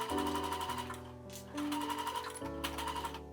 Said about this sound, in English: zigzag stitch the cord or twine onto the fabric